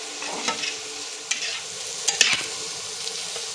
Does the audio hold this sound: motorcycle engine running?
no